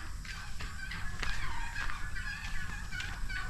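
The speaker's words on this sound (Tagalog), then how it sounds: "Ayan may mga pabo. Ayan yung mga pabo." Several turkeys gobble over a busy outdoor background of chickens on a rural farm, with overlapping calls coming in short bursts at moderate distance.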